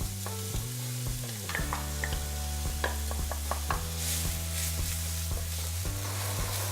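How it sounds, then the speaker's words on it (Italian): Onion soffritto for paella sizzles in a pan, a steady frying hiss beneath prominent background music with shifting sustained tones. "Ok, partiamo dal soffritto di cipolla."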